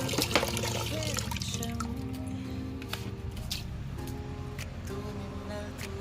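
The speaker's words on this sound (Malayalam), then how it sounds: "വീഡിയോയ്ക്ക് വേണ്ടിയാണ് ഞാൻ വെള്ളം ഒഴിക്കുന്നത്." Water pours steadily onto potted rose plants in a terrace garden, a continuous trickling wash lasting the whole stretch beneath louder tonal background sounds.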